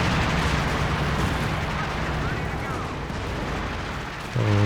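Artillery and ISG shells in Company of Heroes 2 land as a continuous, loud rumble of explosions, and a battle din fills the whole stretch.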